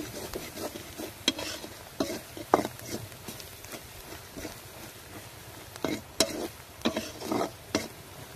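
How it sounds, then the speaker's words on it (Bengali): Spices stirred and fried in a pan for Bengali cooking, giving a soft steady sizzle broken by repeated scraping and stirring strokes, with no speech. "মশলাগুলোকে ভালো করে নাড়াচাড়া করে 30 সেকেন্ডের মতো ভেজে নিব।"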